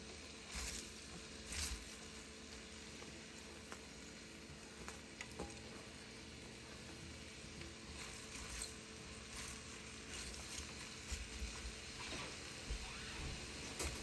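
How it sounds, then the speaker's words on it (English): Cabbage sauteing with corned beef in a pan for an Irish dinner, a steady close sizzle with stirring scrapes and light clinks recurring throughout, with no talking. "I'm going to go ahead and add my cabbage and let it be sauteing with it and cooking down."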